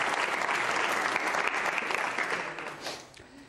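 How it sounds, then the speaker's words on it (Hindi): A quiz show studio audience applauds, a dense sustained burst of clapping that carries on steadily, then thins and fades toward the end. "तालियां बजाइए"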